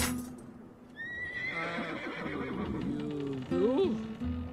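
A horse in The Road to El Dorado video game whinnies loudly and at length, a rising and falling neigh with breathy snorts near the end, close up over game music.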